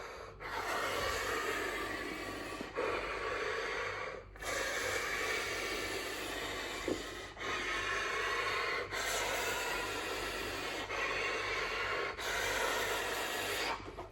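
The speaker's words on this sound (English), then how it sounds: "So I start with a couple breaths through the breathing bag." Slow, deep breaths for a clarinet warm-up are drawn in and pushed out through a breathing bag. Several long, airy rushing cycles are separated by brief pauses, close and loud with no talk.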